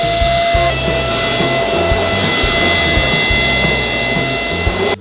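An Alectric Dust VC-A handheld vacuum cleaner runs loud and close with a constant whining motor hum and airflow roar, a slight shift in tone early on, and a sudden cutoff at the end.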